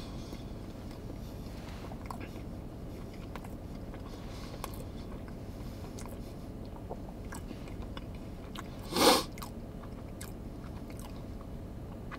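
Someone eating a chocolate-topped pastry donut, with soft, quiet chewing and biting throughout and one brief, louder crunchy bite near the end.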